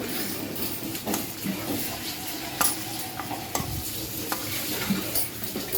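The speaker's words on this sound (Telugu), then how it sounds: "ఆయిల్ వేడెక్కాక వెల్లుల్లి ఒక 10 వెల్లుల్లి దంచి వేసాను" Crushed garlic frying with mustard seeds in hot oil for a gooseberry pickle: a steady, close sizzle broken by scattered stirring clicks and scrapes, with no talking.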